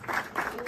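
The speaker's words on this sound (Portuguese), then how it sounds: "uma salva de palmas para ele" Short burst of clapping from people at a meeting about the Flamengo stadium, a few pulsing swells of hands over under a second, moderately loud.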